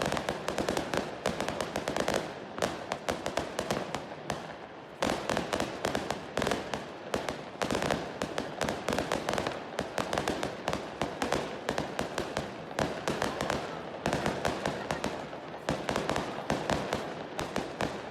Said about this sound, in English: People set off firecrackers in this occasion as they do before wedding.